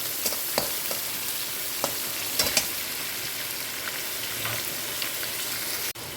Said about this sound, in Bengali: চিংড়ি মাছটাকে 2-3 মিনিট আমরা একটু নাড়াচাড়া করে নেব।